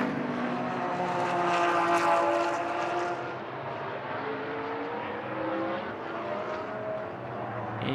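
A GT race car in Blancpain Sprint Series free practice at Moscow roars down the back straight, its engine note climbing loud and close, then easing as it passes into the distance.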